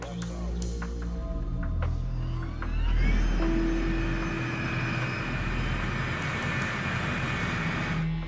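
A 747 freighter taxis on a crowded airport taxiway shared with military aircraft, giving off a steady, rumbling jet engine drone with a rising whine, moderately loud and continuous throughout.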